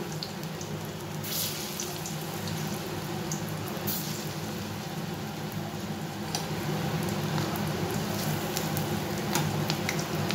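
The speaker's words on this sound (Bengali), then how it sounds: "বড়াগুলো ভাজার জন্য তেল গরম বসিয়ে দিয়েছি, সর্ষের তেলেই ভাজবো আমি।" Vegetable fritters fry in hot mustard oil with a steady, soft sizzle, close and fairly quiet, running without a break and growing slightly louder near the end.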